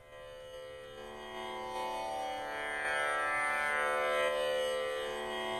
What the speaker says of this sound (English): The tanpura is an instrument that's played to accompany raga music